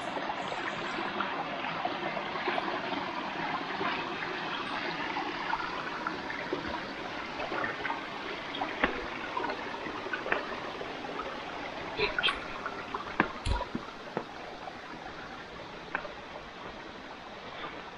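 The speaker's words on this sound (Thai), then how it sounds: "นี่เป็นลำธารลำธารเล็กๆ" A small stream at Khao Hua Muag trickles and flows steadily nearby on a forest walk, a soft continuous wash with occasional knocks and footsteps, and a person speaking intermittently over it.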